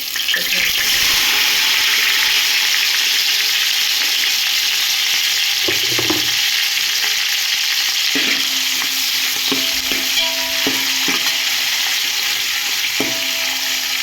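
Steady crackling sizzle of mustard seeds frying in hot oil, continuous throughout, with a few soft clinks of a utensil against the pan.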